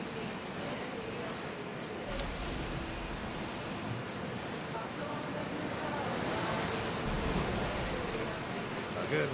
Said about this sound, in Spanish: El mar está en calma.